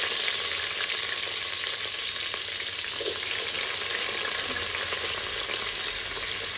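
Onions frying in hot oil with cinnamon and caraway in a pan, a loud, even, close hiss of sizzling that holds steady throughout, with faint stirring and no talk.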